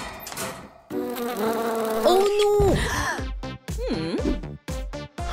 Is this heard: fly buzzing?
yes